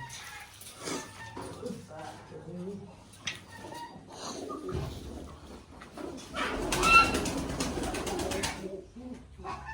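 Pigeons coo on a farm in soft, low murmuring calls scattered through the scene, with a burst of wing flapping or rustling near the end, while someone talks over them.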